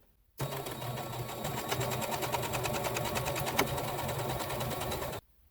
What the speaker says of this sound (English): I'm going to sew just to the right of this line